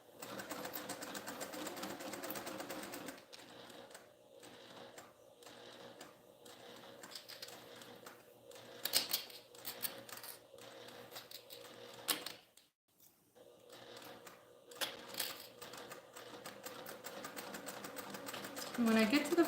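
A sewing machine stitches a travel passport organizer in quick mechanical bursts with brief pauses, faint and close, with talking over parts of it.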